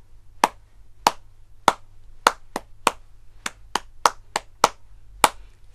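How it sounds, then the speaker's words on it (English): Children clap their hands in time with a song's rhythm during a music lesson, with about a dozen sharp, close claps spaced unevenly across several seconds and no voices. "So we clap how the song goes."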